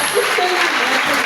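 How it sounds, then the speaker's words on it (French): A church congregation applauding, a dense steady wash of clapping that fills the brief moment, loud and close. "acclamez vous-même"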